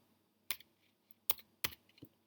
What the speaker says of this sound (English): I press D on my keyboard